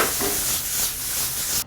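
Shrimp grilling in a hot pan, cooked alongside potatoes, gives off a continuous loud hiss and sizzle that stops abruptly at the end.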